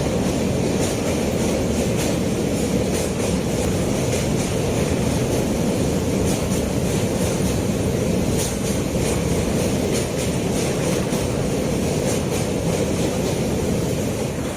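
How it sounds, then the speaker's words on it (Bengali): Passenger train travelling at night across a river on the way back from Nepal toward Kolkata, a loud continuous rumble and rattle of carriages heard from inside the train, steady throughout with faint rhythmic clatter and no talking. "রাতের আধার কেটে আমাদের ট্রেন নদী পেরিয়ে চলেছে।"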